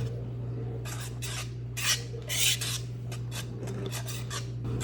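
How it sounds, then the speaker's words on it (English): Dry bread ingredients whisked in a bowl, a rapid scratchy scraping in several short bursts over a steady low hum, close by and moderately loud. "I'm just going to give those a whisk to make sure they're all combined"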